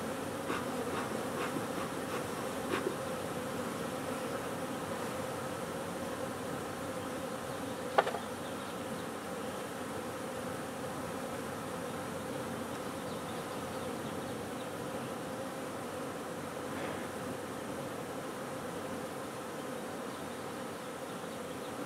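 Honeybees hum in a steady, dense drone from an open hive during beekeeping work, close and continuous for over twenty seconds, broken by a few faint clicks and one sharp tap of wooden frames.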